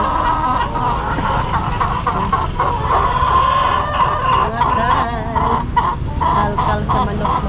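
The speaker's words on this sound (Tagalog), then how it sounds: "Mga manok si Dudong andoon sa sasakyan mga maninay" Chickens inside a vehicle cluck and crow close by over a constant background hum, with voices talking now and then.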